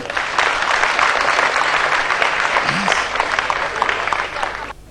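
Loud, sustained audience applause fills a comedy show of jokes in Hyderabad, a dense wash of clapping lasting about five seconds before cutting off abruptly.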